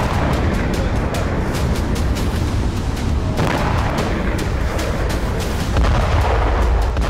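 Explosions and fire in Russian cities, a dense, continuous roar of booming blasts and crackling bursts that stays loud throughout with no voices.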